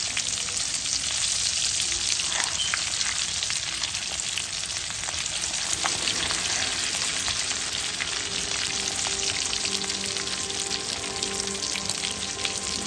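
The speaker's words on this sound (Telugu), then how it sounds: "చేపలు వేగాయో లేదో చూద్దాం. చూడండి ఎంత బాగా వేగిపోయాయో." Fish frying in a pan of oil, a dense steady sizzle with crackling spatters running throughout, close and fairly loud, with no voices.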